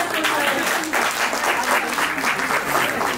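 Audience members at a school reunion give a teacher a hearty round of applause, with thick, continuous clapping that pulses slightly in waves and is loud and close throughout.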